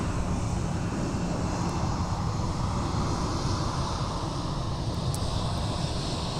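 An Airbus A319 airliner at MSP airport produces a steady, loud broadband jet engine roar that holds constant throughout, with a faint wind-like hiss on top and no voices.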